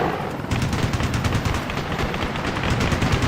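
Rapid machine gun fire rattles loudly and continuously in an Ace Combat Assault Horizon battle, with dense bursts of gunfire and a sharper, fuller barrage from about half a second on.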